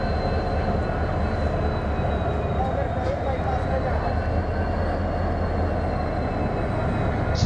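A WDP4D diesel locomotive moves through an Indian rail yard close by, giving a steady, loud engine drone with a faint high whine held throughout, with no pauses or breaks.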